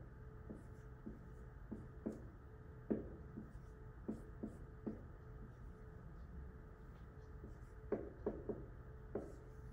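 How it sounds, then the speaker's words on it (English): Hand writing on paper, faint close scratchy pen strokes in short irregular bursts and taps, alone without talk. "So I'm going to write it again down here if I have space."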